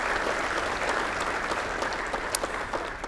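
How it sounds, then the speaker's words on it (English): Steady applause from an audience at a summit main stage in Utah, thanking the event's sponsors; dense, sustained clapping with no talk over it. "Let's give them a round of applause."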